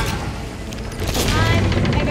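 Sea of Thieves ship cannon firing at a kraken tentacle: a loud booming blast swells midway over ongoing ocean and game noise, with a voice talking during the action.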